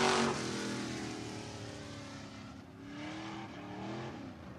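A pure stock race car at All-Tech Raceway in Lake City, Florida, revs its engine as it passes along the track, a steady roar at moderate distance that dips and rises again, with no talk.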